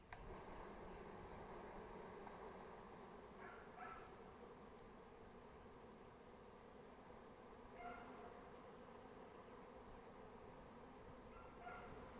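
A captured honeybee swarm being shaken and moved into a hive, a dense continuous buzzing hum held at a steady level throughout, with a few faint brief accents and no voices.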